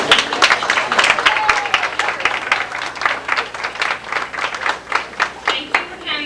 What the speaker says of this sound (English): and we'll give a big round of applause.